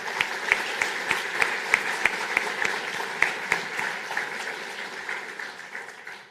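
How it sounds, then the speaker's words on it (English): Audience applause at the opening of a conference, a broad spread of clapping with some sharp, closer claps standing out in a loose rhythm. It stays fairly strong, then thins and fades. "So please join me in a round of applause."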